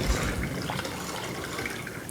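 Turkey neck stock, simmered in water, is strained out of a pot, giving a steady splashing, gurgling pour that runs loud and close for the whole stretch.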